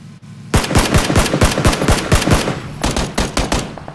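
Rapid automatic gunfire in a first-person shooter video game, loud, close bursts of about a dozen shots with a brief pause before a final volley, no talking.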